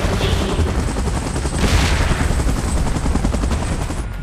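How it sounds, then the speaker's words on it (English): Helicopter hovering in the video game Titans: Last Stand, a loud, steady, chopping rotor roar that fills the whole stretch, with a dense rattling texture like gunfire mixed in. "Chopper in position."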